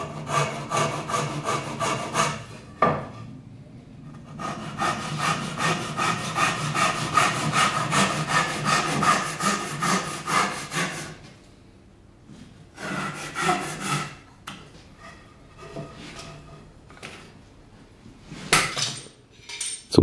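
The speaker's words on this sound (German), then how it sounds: "wird die Dosuki, eine Japansäge mit Rückenverstärkung und dünnerem Sägeblatt, verwendet." A Japanese dozuki back saw with a thin blade cuts a wooden workpiece clamped to a workbench, rasping in long rhythmic strokes with short pauses between bursts, close and clear.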